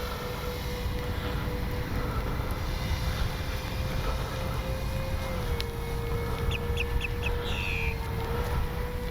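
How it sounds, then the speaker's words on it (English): A radio-controlled Avios PBY Catalina seaplane's engine drones steadily at a distance, its pitch holding then dipping slightly, over a broad outdoor hiss with a few faint chirps. "what a sweet flying plane"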